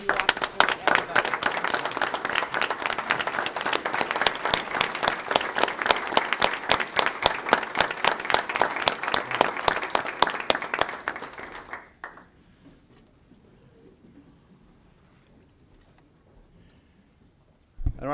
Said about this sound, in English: I think we should stand up and give an applause to all of our heroes in this audience tonight